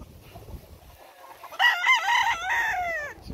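Fighting roosters at a gamecock farm crow loudly and nearby in one long drawn-out cock-a-doodle-doo, preceded by softer clucking and scratchy background noise.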